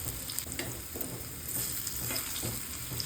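Kothimbir vadi, a gram-flour and coriander snack, shallow-fries in a pan with a continuous close sizzle and occasional scrapes as the pieces are turned. No one speaks.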